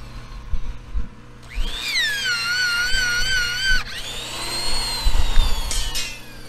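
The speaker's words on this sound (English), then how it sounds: "He's bending some rebar to tie the corners in, and he has a hydraulic rebar bender here." A hydraulic rebar bender bends steel rebar during a garage steel installation. Its whining pump tone rises and holds for a couple of seconds, then a second strained whine follows over a low background rumble, with no talking.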